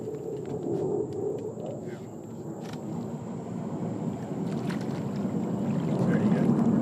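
A small boat churns across water with a low engine hum and splashing wash, growing gradually louder toward the end.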